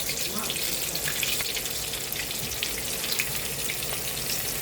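Chicken fries in lard in a cast iron skillet, a steady dense sizzle that holds loud and even throughout without pause.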